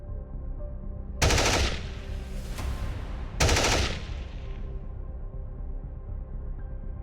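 Two loud bursts of rapid gunfire, each roughly a second long with a fading tail, crack out about two seconds apart against a low background hum.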